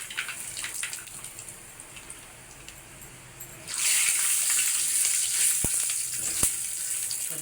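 Mustard seeds and peanuts dropped into hot oil for poha set off a quiet hiss that jumps to a loud, steady sizzle midway, with a couple of sharp pops near the end.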